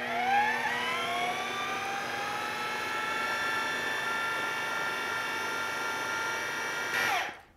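A food processor whirs steadily while blending homemade hummus, a loud continuous motor drone with a high rising whine that holds for about seven seconds before cutting off abruptly.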